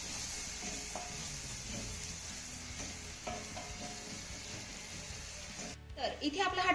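Finely chopped tomato sautéing in a gram flour mixture in a pan, giving a steady soft sizzle with occasional stirring, while a voice talks over it and a louder clatter comes near the end.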